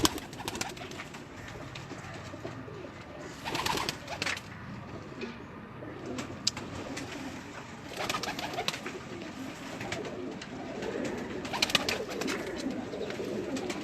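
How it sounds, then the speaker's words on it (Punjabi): Breeder pigeons coo continuously in a loft on a hot Faisalabad evening, a layered chorus of soft, throaty coos repeating close by with a constant background hum and no talking. "ਇਹ ਕਬੂਤਰ ਨੇ ਜਿਹੜੇ ਫੈਸਲਾਬਾਦ ਦੀ ਗਰਮੀ ਦੇ ਵਿੱਚ ਸ਼ਾਮ ਸ਼ਾਮ ਨੂੰ ਬਹਿੰਦੇ ਨੇ"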